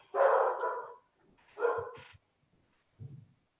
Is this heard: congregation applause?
no